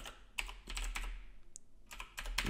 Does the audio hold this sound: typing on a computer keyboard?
yes